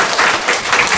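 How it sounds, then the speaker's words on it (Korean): A church congregation gives loud, warm applause to welcome a newcomer, many hands clapping together in a dense, sustained wash that fills the room. "그 자리에서 한번 일어서 주시면 큰 박수로 환영하도록 하겠습니다."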